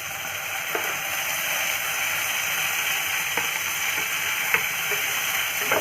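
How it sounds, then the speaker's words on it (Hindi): Onions and tomato fry in oil in a steady, close sizzle that runs throughout, with a few faint clicks and taps from a utensil in the pan. "पियाज को हम गोल्डन ब्राउन होला पर्यंत फ्राई करबा।"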